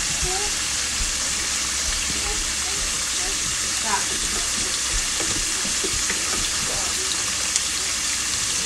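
Seasoned, flour-coated chicken frying in a pan, a steady loud sizzle and crackle from start to finish, with soft kitchen movements and faint speech underneath.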